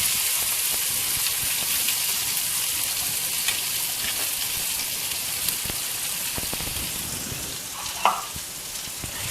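Small onions fry in hot oil with lentils and mustard seeds, a steady crackling sizzle with scattered pops and spatters, close by and without talk.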